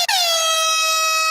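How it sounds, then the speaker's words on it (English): One loud, brassy blast from an air horn, sharp at the start and held steadily for over a second. "I'm going to hit the air horn so you remember"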